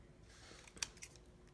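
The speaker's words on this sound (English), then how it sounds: "you can just get the scissors and trim it down" Scissors snip paper embellishment for happy mail crafting, a quiet close-up with one sharp crisp cut and a softer second snip a moment later against near silence.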